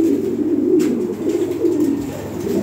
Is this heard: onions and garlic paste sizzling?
no